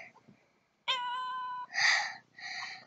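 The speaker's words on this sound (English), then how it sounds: "I have my cat here" A pet cat meows indoors, giving a drawn-out clear call followed by two shorter, rougher meows, close and fairly loud, with no talk over them.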